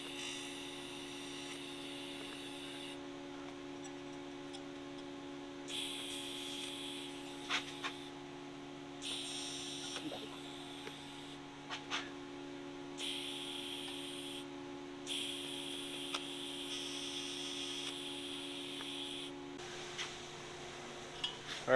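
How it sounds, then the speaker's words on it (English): TIG welding a rod into an ice cream machine part: a steady electric arc hum and buzz runs throughout, with bursts of high hiss and crackle coming and going in repeated passes. No talk. "It's set in place, so we're going to go ahead and TIG that up now"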